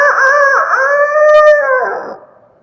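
A human voice imitating a rooster's crow, one drawn-out wavering call about two seconds long, fairly loud and close, fading at the end with no talk around it.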